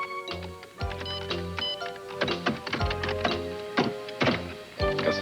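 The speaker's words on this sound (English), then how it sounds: "Typing away." Someone types steadily on a keyboard during a timed game-show round, producing a fast, irregular patter of clicks and thunks up close against a background music bed, with no talk over it.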